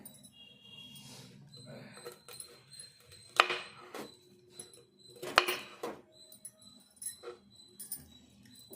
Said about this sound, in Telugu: రెండు సార్లు అయితే కట్ చేసుకొని పక్కకు తీసుకోవాలి ఇట్లా కట్ చేసుకోవాలి